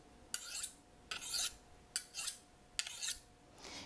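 A honing tool rasps back and forth along a French steak knife blade in four quick, evenly spaced strokes, each a bright metallic scrape, close and clean with nothing else heard.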